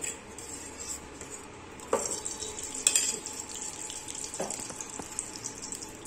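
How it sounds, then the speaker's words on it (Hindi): Makhana (fox nuts) roasting in ghee in a kadhai, a soft frying hiss broken by several sharp scraping and clinking stirs against the pan, close by and without speech. "और ये मखाने हम डाल इसको हम भूनेंगे"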